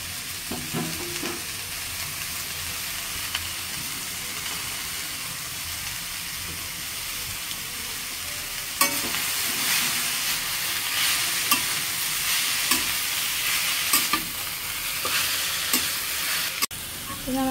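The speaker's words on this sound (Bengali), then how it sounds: "এখন শাক ভাজি করবো।" Leafy greens (shak) frying in a pan, a steady close sizzle that grows louder partway through, with scattered stirring scrapes and knocks, no talking.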